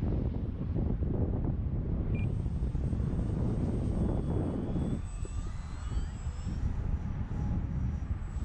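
A small FMS PA-18 model airplane buzzes overhead with its engine climbing in pitch as power is added, heard continuously at moderate distance under wind rumble on the microphone.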